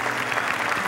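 A church congregation applauds steadily, dense clapping throughout a brief burst with no voices on top.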